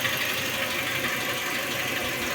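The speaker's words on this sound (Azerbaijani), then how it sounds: "Avtomobildə bax, xırda mühərrik qeyri-müntəzəmliyi var." A 2008 Kia Sportage engine idles steadily up close with a slight misfire, a low rumbling drone with a slightly uneven, knocking pulse underneath.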